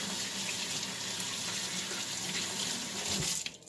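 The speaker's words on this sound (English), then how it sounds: "So, washing our hands here." Hands washed under a running kitchen tap while preparing meatballs, a steady close stream of water splashing into the sink that cuts off abruptly at the end.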